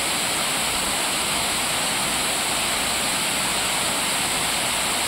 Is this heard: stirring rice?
no